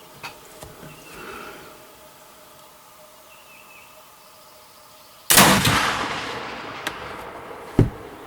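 A single loud black powder blast from a Tennessee Mountain Rifle partway through, followed by a long rumbling decay and a couple of small knocks, after quiet outdoor ambience with faint birds.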